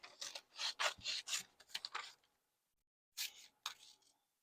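Scissors cutting felt for sewing, a series of close rasping snips in quick bursts, a short pause, then two more cuts, crisp and fairly loud with no voice over them.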